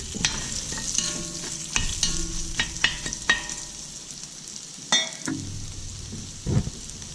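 Chopped onions sweat in a hot pan for a chicken and vegetable stir fry, giving a steady close sizzle with scattered stirring scrapes and clicks, and no talking.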